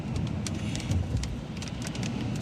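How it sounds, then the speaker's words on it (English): Heavy rain drums on the windshield of a car near King of Prussia during a powerful storm, a dense, steady close-up patter with scattered sharper drop hits and a low rumble beneath. "That rain, you can hear it on our windshield."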